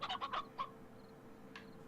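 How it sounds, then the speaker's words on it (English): Chickens clucking in the video game Slime Rancher, a quick burst of several soft clucks followed by a lone call, faint and distant over a low steady background hum. "They're chickens."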